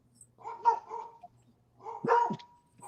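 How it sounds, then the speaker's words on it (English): Two dogs barking in short bursts, two clusters of sharp barks about a second apart, moderately near and loud against a quiet room. "I don't know what they're barking at. They're loud."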